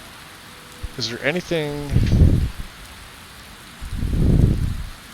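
Rain falls in a video game as a soft steady hiss in the background, while someone talks over it and two swelling whooshes rise and fade.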